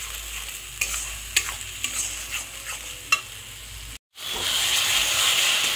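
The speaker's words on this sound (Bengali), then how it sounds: "যতক্ষণ না তেলটা উপরে উঠে না আসছে, মশলা থেকে ছেড়ে না দিচ্ছে, ততক্ষণ মশলাটাকে ভালো করে কষিয়ে যেতে হবে।" Spice paste stir-fried in oil for Bengali egg curry (egg kosha), a close sizzle broken by sharp scraping spoon strokes at irregular intervals, then after a brief gap a louder, steady frying hiss.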